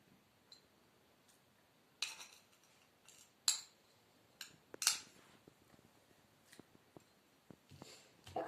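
A spoon clinking against a glass as chopped soap is stirred into water, giving sparse, faint, irregular metallic taps with quiet pauses between them.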